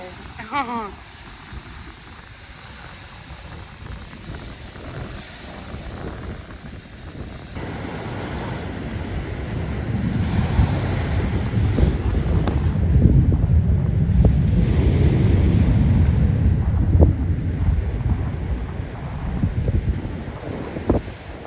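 Ocean waves and wind at the shore make a broad, steady wash that builds louder through the middle and eases slightly toward the end, with wind buffeting the microphone.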